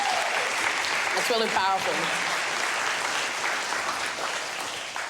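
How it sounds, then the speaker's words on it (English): Audience applause fills the room steadily from start to finish, fading slightly toward the end, with a brief spoken remark cutting in near the beginning. "Let's clap it up again for Jovonda's storytelling."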